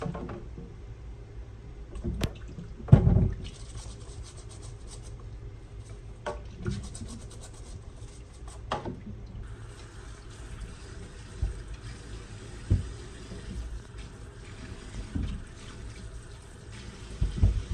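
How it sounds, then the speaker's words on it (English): Cold water runs steadily from a tap while something is rubbed and scraped under it, with occasional knocks and clunks. "we're just going to be cleaning our squash off really good under some cold"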